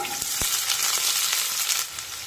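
Finely chopped onion drops into hot oil already crackling with popped mustard seeds and cumin, giving a loud, steady close sizzle with a few sharp pops.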